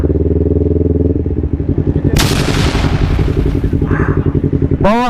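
A Yamaha X-Max scooter races past on a busy street, its engine drone loud and close, with a sharp burst of noise midway and a rising whine as it passes at the end.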